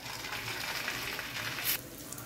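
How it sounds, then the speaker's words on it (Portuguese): An egg-and-bread mixture fries in olive oil in a frying pan, a soft, steady sizzle close by with small crackles and a brief brighter burst near the end, no voices. "Agora tá aqui fritando"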